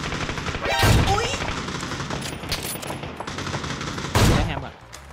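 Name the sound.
gunfire in the video game PUBG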